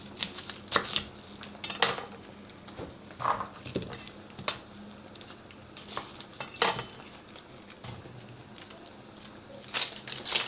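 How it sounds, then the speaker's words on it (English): Half an onion diced with a knife on a cutting board in a home kitchen while making crispy tacos: a run of sharp, irregular chopping taps, close and fairly quiet, with short pauses between bursts and no talk. "I'm gonna dice up half an onion here."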